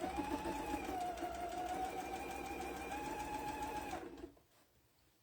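A sewing machine stitching a quarter-inch seam on tote bag fabric runs in a steady close whir for about four seconds, then stops, leaving near silence.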